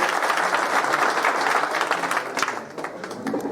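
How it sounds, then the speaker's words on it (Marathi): Teachers receive applause at a school reunion get-together for a 1991 batch, with a crowd clapping loudly and continuously before the sound thins out toward the end. "तर आपल्या शिक्षकांसाठी एकदा जोरदार टाळ्या होईल."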